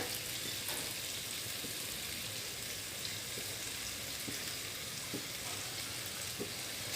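Vegetables sauté in a pan with a dense, even sizzle that holds steady throughout, broken only by faint, occasional light stirring ticks.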